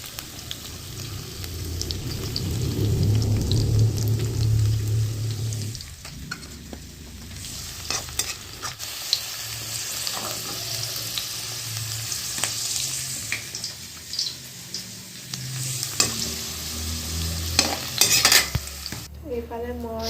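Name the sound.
frying ginger, garlic and onion in a pan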